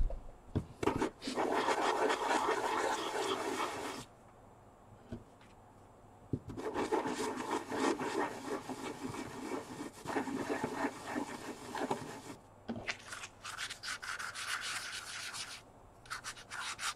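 A worn stone seal being polished, soft rubbing and scraping strokes in bursts separated by brief pauses, close and fairly quiet with no talking.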